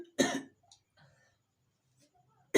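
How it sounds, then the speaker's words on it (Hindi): Two sharp, harsh coughs, one at the start and another at the end, separated by quiet moments with faint breathing and small noises. "खांसी आ रही बहुत तगड़ा दोस्तों"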